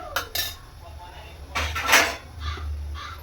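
Metal cooking pot and lid clattering in a kitchen: a couple of light clinks, then a louder scraping clank as the lid goes on, with soft metallic taps after.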